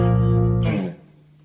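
A clean electric guitar tone rings out as one sustained note or chord with bright harmonics, then fades quickly into a faint hum.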